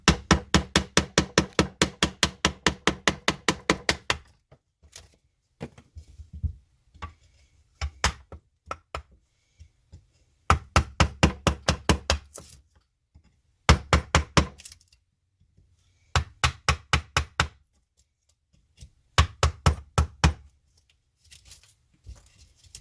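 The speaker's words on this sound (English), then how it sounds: "using your chisel and mallet to take off this side area that's against the grain" Wooden carving mallet driving a chisel into wood against the grain, heard as bursts of rapid, evenly spaced sharp knocks separated by short pauses and a few scattered single taps, close and fairly loud with no talking.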